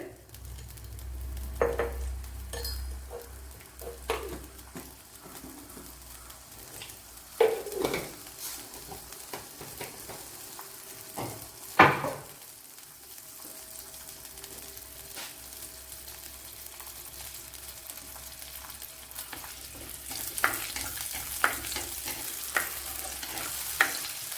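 Fenugreek and cumin seeds fry in oil for a drumstick sambar, a quiet, steady sizzle with occasional spoon scrapes and clinks against the pan, growing a little louder toward the end.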